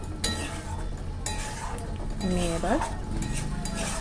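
Octopus curry being stirred in a pan after garam masala goes in: a spoon scrapes and clinks against the metal pan under a low sizzle, with someone speaking briefly over it.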